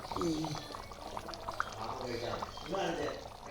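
Curry boiling in a pan, a soft bubbling and simmering texture, faint and close, running under a person talking throughout.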